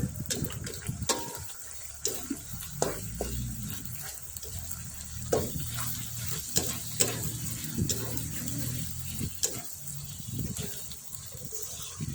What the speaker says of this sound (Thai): ผัดคนให้เข้ากันนะคะ ผัดไปจนกระชายสุกนะคะ